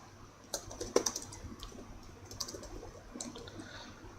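Someone types a comment into a Lua code file on a computer keyboard, with a few close, crisp key clicks coming in short irregular bursts and no talking.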